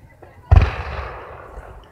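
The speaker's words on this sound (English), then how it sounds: "you actually kind of get used to it when the booms come" A large firework bursts overhead at an outdoor display, one sharp, loud boom followed by a long rumbling decay that fades over more than a second, with no talking.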